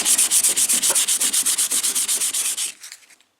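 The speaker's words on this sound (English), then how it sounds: "Finished up with all the sanding," A car engine bay being sanded by hand with 180-grit sandpaper, close and loud rhythmic back-and-forth scratching strokes in quick even succession that slow and fade out at the end, with no voices.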